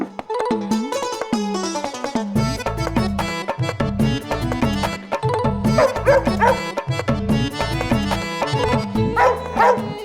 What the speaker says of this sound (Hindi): इस कुत्ते को तो, मतलब इस जिमी को मुझे ऐसा लगता है कि इसका गला घोट दूं।